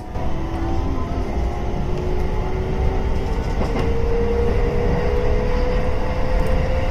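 A private railway train near Shinagawa, Tokyo, pulls away and runs along the rails, its electric motor whine rising steadily in pitch over a loud, constant rumble.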